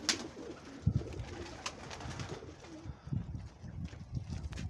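Soft, low coos of fighter and long-bodied pigeons repeat at irregular intervals over light background noise, with no voices.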